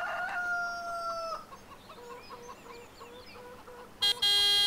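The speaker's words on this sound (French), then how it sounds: "C'est la poule." A chicken in a farming video game gives a string of short, soft clucks at moderate distance after a tonal game chime, and a sharp, loud horn-like burst cuts in near the end.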